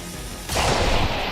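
A single loud burst of gunfire aimed at a Lancer in XCOM 2 roars in abruptly after a quieter lead-in and sustains briefly with a heavy, rumbling blast.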